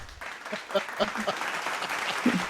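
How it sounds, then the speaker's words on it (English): A small group claps during a school teachers' podcast, a short burst of hand claps with a voice speaking over the clapping. "Big claps."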